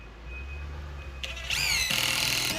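A power drill drives screws into a wooden fascia board outdoors on a house renovation; a quiet stretch gives way to a loud, close whine that rises sharply as the screw seats, then holds at a high pitch.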